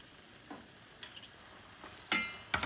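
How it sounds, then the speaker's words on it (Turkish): Boiled eggplants are stirred in a pan in a quiet setting, with a few soft scrapes followed by two sharper utensil clacks near the end. "sudan çıkartıp süzdüğüm patlıcanlarımı atıyorum. Bakın renkleri bembeyaz oldu ve karıştırıyorum onunla birlikte"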